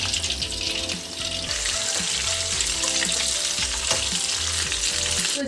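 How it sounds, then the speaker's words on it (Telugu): Apollo fish pieces deep fry in hot oil, a dense, continuous bubbling sizzle that stays loud and close throughout, with faint rhythmic mechanical tapping underneath. "చేప అనేది ఎర్రగా వేగేంత వరకు మనం వేయించుకోవాలండి."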